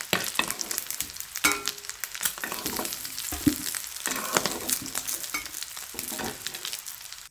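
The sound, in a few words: potatoes frying in a pan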